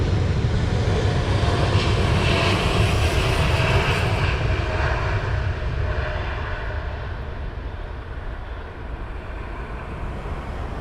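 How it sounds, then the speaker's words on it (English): An Airbus A380 departing Heathrow into a headwind, a loud, continuous jet-engine roar with broad rushing wind noise that holds steady and then slowly fades into the distance. "It's quite possible that the A380 is going to be the last aircraft that's going to be departing from this side today."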